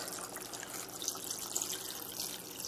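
Water poured from a jug fills a container holding a Kong toy, a steady splashing, trickling stream close by that runs without pause and with no voices over it.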